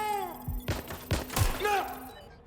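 Gunfire in Watch Dogs: Legion comes as a few scattered, fairly faint shots spread over a couple of seconds, mixed with game tones and ambient effects.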